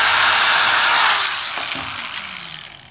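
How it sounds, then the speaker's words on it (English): A high-pitched power drill driving a screw into wood for a birdhouse whines loudly, then slows and trails off as the motor winds down, with faint mechanical clatter near the end. "And I'm gonna drill."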